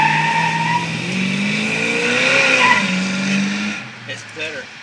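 A Nailhead-powered 1934 truck launching hard from a standstill, engine roaring loud and close with a sustained tire squeal, the noise easing off near the end while people talk over it.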